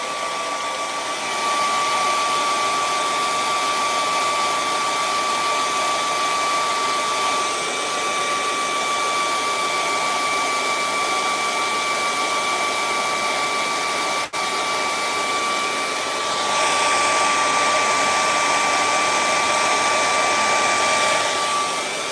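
Hair dryer drying a painting: a loud, steady whooshing blow that runs continuously, with one brief dip partway through and a slight shift in pitch near the end, with no talk.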